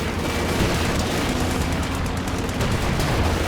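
Dense, continuous battlefield gunfire from Company of Heroes 2, loud and sustained rattling volleys blending into a steady roar with no pauses over about three seconds.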